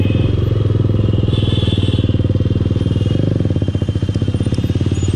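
A Yamaha R15 V3 BS4 or TVS Apache RR310 BS4 motorcycle engine runs close and loud with a rapid steady firing pulse, rising slightly in rate near the end, with no talk over it.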